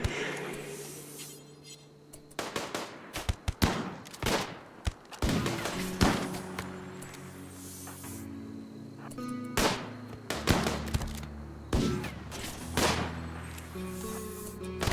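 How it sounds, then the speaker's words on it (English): Rapid gunfire from the RimWorld video game as colonists fire on melee raiders, sharp cracks and thuds coming in bursts and single shots over a steady low game hum, with no talking. "The colonists sneak forward and begin to open fire upon the raiders."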